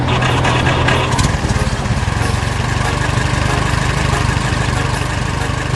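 Engines of a telehandler and a red tractor run steadily while loading a trailer, a continuous loud mechanical drone with a brief shift in tone near the start.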